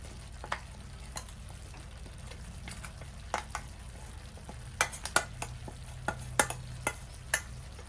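Masala powder is stirred into capsicum curry frying in a pan, with a steady soft sizzle under repeated sharp scrapes and clinks of a spoon against the pan, close and fairly quiet, with no talking.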